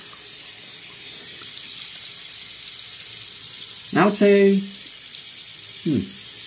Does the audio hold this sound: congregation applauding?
no